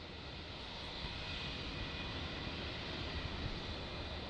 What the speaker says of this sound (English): our next departure here is a Qantas 737-800